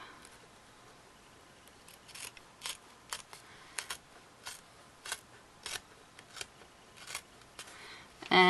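Scissors trim the paper edges of a junk journal, a steady series of about a dozen quiet, crisp snips spaced roughly half a second apart, with a louder rustle at the end.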